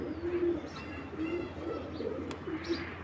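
A black checker racing pigeon on a racing loft coos softly in a few low, repeated bursts, quiet and close, with no talk.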